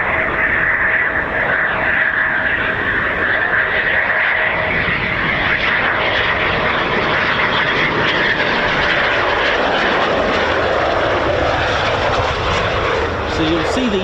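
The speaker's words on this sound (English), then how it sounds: "So you'll see the 4 planes in just a sec." Eurofighter Typhoon FGR4 jet engines at RAF Coningsby, a QRA station: a loud, steady engine roar with a sustained whine runs through the whole clip, close by and unbroken.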